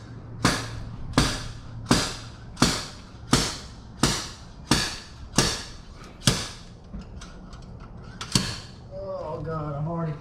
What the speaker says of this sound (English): it's the sound of a man trying to get a bearing